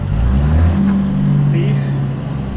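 A truck engine in American Truck Simulator drops in pitch and then rises again as the driver downshifts. The engine is loud and close, with a steady low drone and a speaking voice over it.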